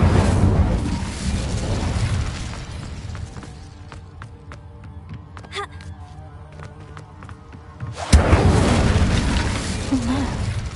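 An Incendio fire spell blasts in Hogwarts Legacy, a loud whooshing burst that erupts suddenly near the end after a quieter stretch of scattered game clicks and effects, with a voice heard briefly.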